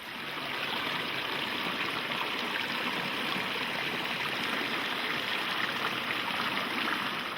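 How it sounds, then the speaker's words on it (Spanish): A forest stream flows with a steady, even rush of water that holds the same level throughout, with no voices. "El agua fluye hacia los ríos filtrada y libre de sedimentos."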